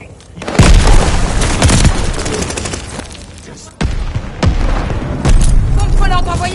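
Heavy booms from a mortar barrage in a combat video game, with several loud impacts spread across the stretch under ongoing game chatter and voices.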